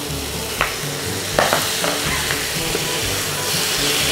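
Pork with bagoong and softened tomatoes stirred in a frying pan, a loud continuous sizzle with intermittent scraping and clinking of the spatula, no talking.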